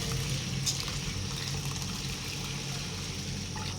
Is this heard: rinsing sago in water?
yes